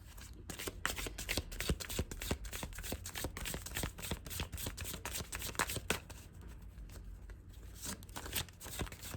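A deck of tarot cards is shuffled by hand in a steady run of crisp, papery riffles and flutters that continues throughout, close and fairly quiet, with no talking.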